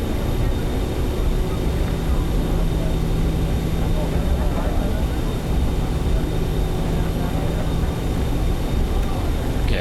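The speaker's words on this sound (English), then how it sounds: "while we're taxiing all the way down there" An aircraft taxiing in Microsoft Flight Simulator 2024 makes a steady, loud engine drone with a constant hum and a high whine that hold unchanged throughout, with no talking.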